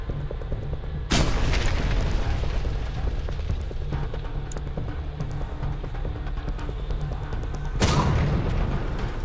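A grenade exploding in the Warhammer 40K Deathwatch video game: two heavy booming blasts several seconds apart, loud and close, over a constant rumble of gunfire and battle noise.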